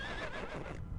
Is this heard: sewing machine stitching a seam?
no